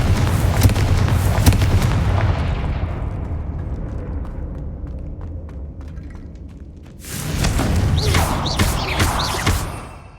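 Confringo blasting spells in Hogwarts Legacy burst in loud, close rumbling explosions, a dense barrage that fades into a low roar before another heavy blast erupts and rolls on.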